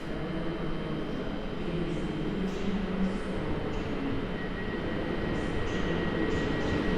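A passenger train arriving at Kraków Główny station rumbles steadily close by, a continuous low roar of wheels and rail noise with a faint high whine throughout.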